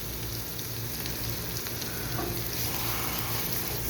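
Onions frying in a pan produce a soft, continuous sizzle with a low steady hiss and faint stirring underneath, even and unbroken throughout.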